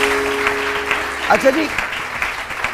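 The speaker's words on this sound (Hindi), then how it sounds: "बहुत बहुत ज़्यादा तालियां इनकी" A studio audience on a Pakistani TV morning show claps steadily in the background while a host talks over it.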